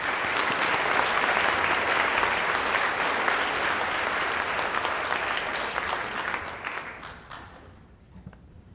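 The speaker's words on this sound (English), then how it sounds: "Let's give them one more round of applause to our new state officer." A large audience at a Georgia 4-H Congress leadership banquet claps in sustained applause for several seconds, then the clapping thins and fades out near the end.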